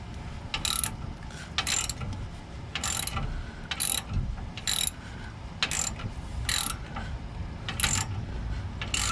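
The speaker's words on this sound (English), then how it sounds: "So once I get this tight, then I can tighten down these nuts down here." A ratchet tightens nuts while a Roadmaster Active Suspension is fitted to a Toyota Tundra, giving about nine short, crisp bursts of clicking at a steady pace of roughly one per second over a low background rumble.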